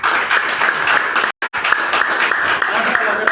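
Audience applause greets Adam Khan Sahib as he is invited up at a DXN business gathering, a dense, steady roar of clapping that runs nearly throughout, broken by a brief dropout near the middle.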